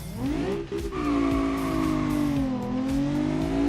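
Loud car engine in the BeamNG driving game, revving hard with rising and falling harmonic tones, one short dip in the middle, then a sustained high-pitched drone that climbs slightly near the end.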